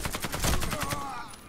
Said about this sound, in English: Yeah, that was that recoil there. It made me shoot over there.